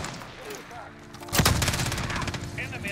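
A FiNN light machine gun fires in the video game Modern Warfare, starting with one loud shot and then breaking into a fast, continuous automatic burst up close, with faint background game noise before it.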